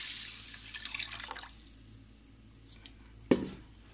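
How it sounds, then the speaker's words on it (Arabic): Water poured into a pot of broad green and small red lentils, a splashing pour that fades, then a brief louder splash near the end, heard alone without talk. "بزيد عليهم 2 لتر ماي"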